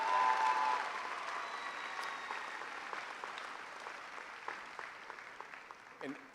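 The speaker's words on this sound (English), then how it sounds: "If we could please give those folks a round of applause for all the work that they did." Audience applause at a high school commencement ceremony, full at first and then thinning into scattered claps that fade toward the end, with a voice faintly audible underneath.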